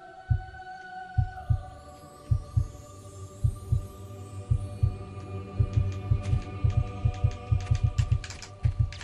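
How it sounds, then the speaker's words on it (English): Steady heartbeat thumps from the video game Fable pulse through a low hum, regular double-beat throbs repeating throughout, close and clear with no talking. "that was making heartbeat sounds in my ears"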